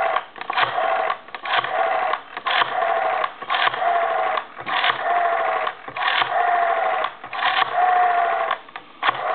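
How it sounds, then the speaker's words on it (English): Western Electric 302 rotary desk telephone dialing numbers into an analyzer, a steady run of rapid clicking pulses in bursts separated by short pauses, close and moderately loud, with no voices. "we're going to go ahead and take the telephone and put it back over into the analyzer, and we're going to dial the numbers again"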